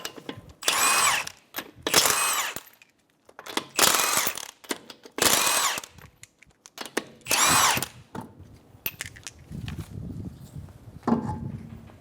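Power tool spinning a 19mm socket to remove the front wheel lug nuts of a 2012-2016 Subaru Impreza, several short loud bursts of whirring and rattling separated by brief pauses, close by.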